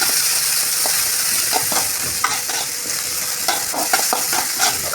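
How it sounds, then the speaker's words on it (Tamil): Green chillies and curry leaves sautéing in oil in a pan for chicken kulambu, a loud close crackling sizzle broken by scattered spatula taps and scrapes, no voices. "நல்லா கோல்டன் ப்ரௌன் கலரில் வரணும். அதை வரைக்கும் நல்லா வதக்கிக்கோங்க."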